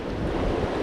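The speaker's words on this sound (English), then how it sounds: "You can see a big rapid down there making a lot of noise." A big river rapid on the Cache la Poudre River in Colorado gives off a loud, continuous rushing roar with no break.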